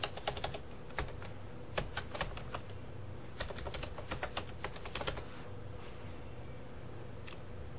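Fast, light clicking of computer keyboard keys as a web address is typed, irregular bursts of taps with short pauses over a steady background hum.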